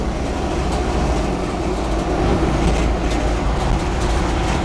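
A low-geared bug out vehicle's engine pulls up to speed, a steady, loud, unbroken rumble of engine and road noise heard from inside the cab with no talking.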